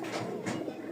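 A pigeon coos softly at a market stall selling pigeons and cages, a low brief burble over steady background noise.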